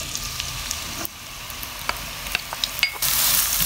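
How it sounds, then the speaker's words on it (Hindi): Onions frying in hot oil in a kadhai for a mixed vegetable sabzi, a steady sizzle with scattered stirring clicks that swells louder and brighter near the end. "हल्का सा गर्म हो चुका है, इसमें प्याज ऐड कर देंगे"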